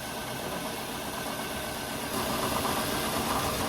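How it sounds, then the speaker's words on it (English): A 2002-2006 Toyota Camry engine idles with a steady, rough mechanical hum and faint vibration, its tone shifting slightly partway through as a coil pack is unplugged. "So see how the engine noise has changed?"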